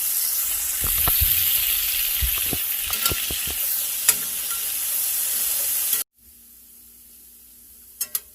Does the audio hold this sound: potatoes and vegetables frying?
yes